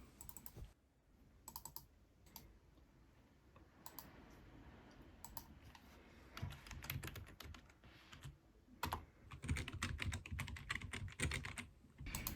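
A computer keyboard is typed on while a book is being written, with bursts of quick clicking keystrokes that speed up and grow denser toward the end, set against a faint steady room hum.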